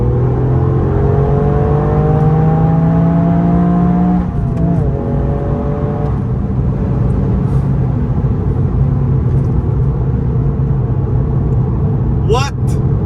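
A Toyota Yaris GR engine pulls hard and rises in pitch toward its 7,000 RPM limiter, then shifts into fourth and keeps droning under road noise, heard from inside the car.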